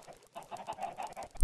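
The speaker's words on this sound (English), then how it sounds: "Dang chickens." Minecraft chickens clucking in a short burst of several quick, soft clucks, close and fairly quiet, with no talking.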